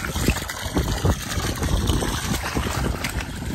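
Water runs and splashes at a borewell in a village, a steady close gushing trickle with small irregular splashes, no one speaking.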